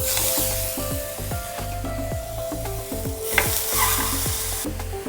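Prawns sizzle steadily on a buttered grill pan, a loud continuous frying hiss with repeated tonal clicks and scrapes throughout, no voices.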